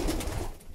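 Pigeons coo softly in a pigeon loft, a short low murmuring burst, close and fairly quiet, with no talk.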